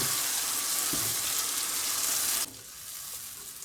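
Fish karahi is stirred together with a tomato, coriander and garlic paste, a bright bubbling sizzle close by that abruptly quiets partway through.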